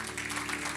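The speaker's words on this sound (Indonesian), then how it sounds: "Kasih tepuk tangan untuk Tuhan." A church congregation claps together during a worship service, a brief, steady burst of dense applause with a faint musical hum underneath.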